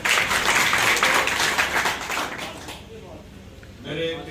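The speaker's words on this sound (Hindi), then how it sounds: "जोरदार ताली।" Loud applause and clapping from a village crowd welcoming a guest at a ward 17 election gathering, dense and sustained for a couple of seconds, then fading into quieter murmurs and scattered sounds.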